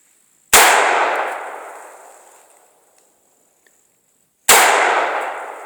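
Two single AR-15 rifle shots, fitted with a Punisher charging handle, fired about four seconds apart outdoors; each is a sharp, loud crack followed by a long fading echo, with quiet in between and no talking.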